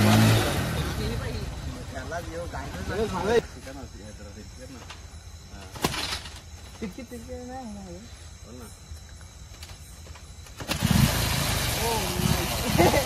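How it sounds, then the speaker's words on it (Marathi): A heavy vehicle's engine turns over and catches, then idles and revs unevenly while stuck in mud at night, with people talking over it and a loud burst near the end. "हा भाईनी गाडी चालू केली"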